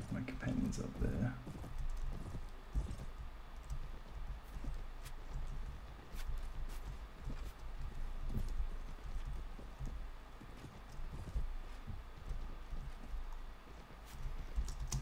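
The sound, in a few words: horse hooves galloping in the video game Mount & Blade: Warband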